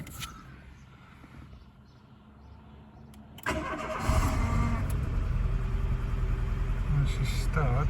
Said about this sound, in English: She started, but still very lumpy.